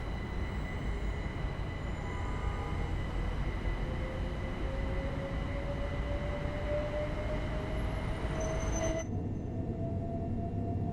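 A London commuter train in Train Sim World 4 runs steadily toward London Victoria under a 45 mph limit, with a continuous rumbling roll of wheels and a faint rising whine before the sound cuts off sharply.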